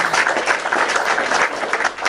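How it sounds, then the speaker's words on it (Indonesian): Audience clapping for a guest joining a live online show, a dense, loud burst of many hands lasting a couple of seconds without pause. "Kita beri tepuk tangan dulu ya."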